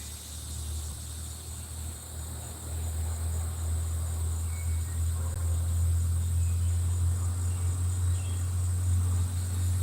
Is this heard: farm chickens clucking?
no